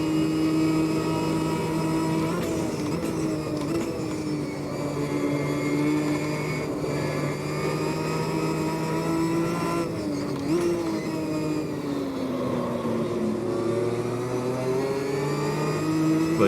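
Race car engines at the Nurburgring in the video game Automobilista 2, with a BMW M6 GT3 and Ginetta G55 GT4. A loud, continuous engine drone rises and falls through gear changes, with a brief tire squeal.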